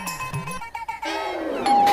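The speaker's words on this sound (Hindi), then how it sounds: "डोरबेल दोबारा बजती है।" After a moment of voices, a doorbell chime rings out and hangs in the air, sustaining clearly to the end.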